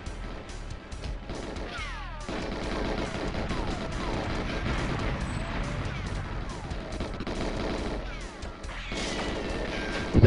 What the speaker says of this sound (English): There's the AK Soviet Russian gun